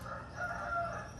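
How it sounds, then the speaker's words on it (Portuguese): A rooster crows close by, one drawn-out call rising and falling over a low background hum, moderately loud and heard alone. "Tem um galo cantando aqui perto"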